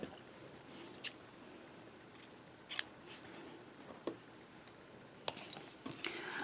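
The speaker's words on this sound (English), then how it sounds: "now I'm going to cut my black yarn off" Scissors snip black yarn during a crochet project, a few sparse, sharp, faint clicks spread over several seconds against quiet room noise.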